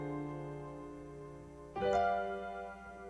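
Gospel piano playing a minor 2-5-1 progression in C, a soft sustained chord fading before a second chord strikes and rings, quiet and close with no voice.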